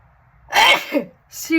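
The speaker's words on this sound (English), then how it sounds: "I'm going to sneeze." One sharp, close sneeze with a quick explosive burst and a short trailing exhale, followed by the start of a voice.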